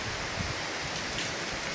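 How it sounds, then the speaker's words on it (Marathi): Light drizzle patters on houses and tall buildings, a soft, even, continuous hiss of raindrops with no voices, steady throughout. "असा छान आल्हाददायक असे पावसाचे थेंब पडत आहेत"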